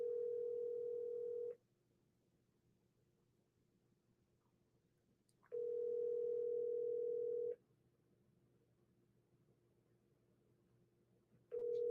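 An unanswered phone call gives a steady ringback tone in long, evenly spaced bursts of about two seconds, separated by roughly four seconds of near silence, heard close and clean over the line.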